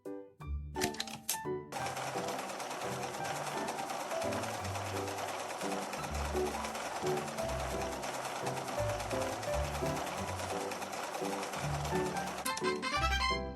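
A rapid, steady mechanical sewing-machine whir from a dress-up video game as socks are stitched, running loud and continuous for about twelve seconds over bouncy background music with a thumping bass line, then stopping abruptly.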